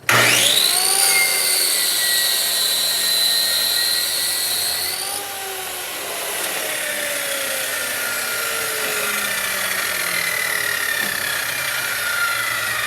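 Power saw, apparently a table saw, making a squaring pass that trims about an inch off the end of a wooden board; a loud high whine as the blade cuts, then the blade spinning down steadily.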